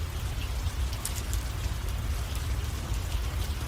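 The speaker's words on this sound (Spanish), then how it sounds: "La lluvia golpea los adoquines con un rumor constante" Steady rain pours onto cobblestone streets on a grey autumn day, a dense, even hiss with scattered brighter drips, constant and unbroken throughout with no voices.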